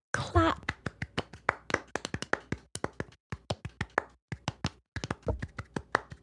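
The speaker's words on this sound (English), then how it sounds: "Yes, we applaud ourselves." Hands clap in quick, uneven bursts of sharp claps that are close and crisp, with short pauses between runs of applause.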